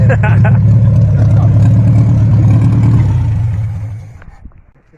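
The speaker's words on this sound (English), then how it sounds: "The engine still at work." An old car found in the bush with its engine running, a loud, low, rough idle throbbing close up before fading away toward the end, with voices talking over it.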